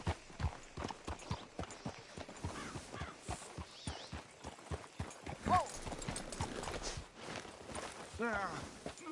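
Horse hooves clip-clop in a steady walking rhythm on hard ground, close by, with some faint background sounds and a brief snort, in the video game Red Dead Redemption 2.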